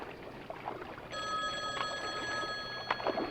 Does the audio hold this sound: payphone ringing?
yes